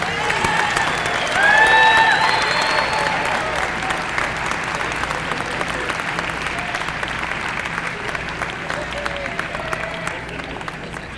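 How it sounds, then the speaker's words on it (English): Sustained crowd applause at a high school signing day as athletes sign national letters of intent, loud and continuous with scattered cheers and whistles rising early, then holding steady. "let's give another round of applause as they sign their national letters of intent"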